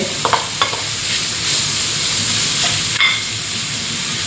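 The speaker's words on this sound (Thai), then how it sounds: "ผัดเข้าไปค่ะ หลังจากนั้นค่ะใส่ข้าวลงไปเลย" Rice is stir-fried in a pan for Thai basil pork and shrimp fried rice, with a loud, steady sizzle and a few sharp spatula clinks and scrapes, mostly early on and once more partway through.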